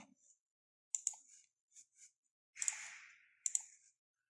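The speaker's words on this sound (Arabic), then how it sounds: "هضغط على زر اد" A mouse click on the Add button while adding a database in MySQL Server, heard as several short, faint, crisp clicks spread across a quiet stretch.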